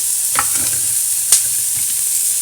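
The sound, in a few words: carrots frying and being stirred in a pan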